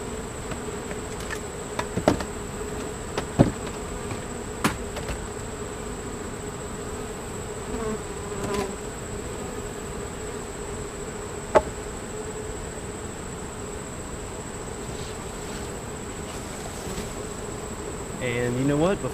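Honey bees buzz steadily around an opened hive while a new split is set up, a constant mid-level drone with a few sharp knocks and clicks of equipment.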